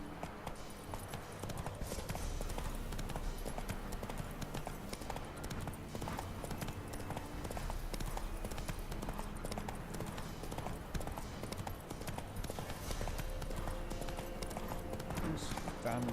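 Horse hooves galloping in The Witcher 3, a steady fast clip-clop running continuously throughout over a dense game soundtrack, with a voice talking at times.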